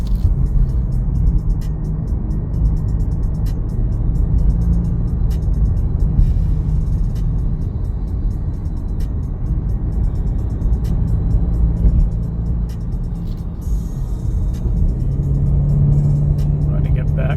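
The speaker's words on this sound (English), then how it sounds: "Running it back in this Ford Mustang convertible inline-4 turbocharged in the twists and turns in the hills." Steady engine drone of a 2024 Ford Mustang convertible with a turbocharged inline-4, driven at night through winding hill roads, a low continuous rumble with mild rises in pitch and a faint ticking above it.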